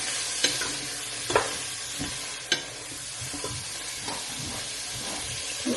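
Ground beef and garlic fry in a pan with a constant close hiss and sizzle, punctuated by several sharp spatula scrapes and taps against the pan.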